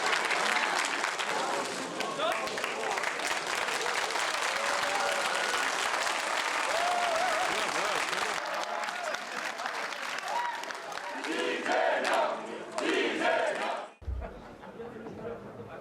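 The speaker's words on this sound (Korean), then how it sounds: "양쪽 모두에서 환호가 나오면서 한쪽에서는 좀 어색한 박수가 흘러나오는 그런 상황이었는데요" An election-night crowd claps and cheers in a dense, sustained wave of applause, mixed with shouting and chatter, before it cuts abruptly near the end into a quieter, different scene.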